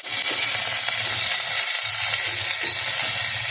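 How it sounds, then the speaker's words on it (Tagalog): Boiled beef shank sizzles and fries loudly in a hot pan, a constant close hiss with faint stirring scrapes and no talking. "i-fry muna natin yung beef shank"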